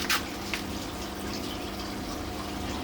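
Water flowing steadily into an aquaponics tank, a low continuous trickle and gush with a pump-like hum beneath, soft and close, with a couple of brief splashes at the start and no talking.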